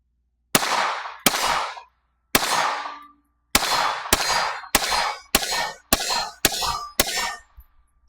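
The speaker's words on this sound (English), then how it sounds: "10 more rounds." A CMMG .22LR rifle fires ten rounds at an outdoor range: crisp, loud cracks with quick fading tails, starting slowly, then speeding into a steady run of closely spaced shots.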